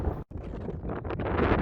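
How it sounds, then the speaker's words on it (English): Strong wind at a middle school grounds roars and buffets the microphone in a dense, low rush, briefly cutting out for a moment before surging back louder. "Still very windy."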